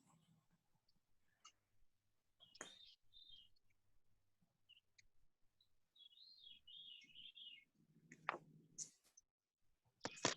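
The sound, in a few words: thrush singing outdoors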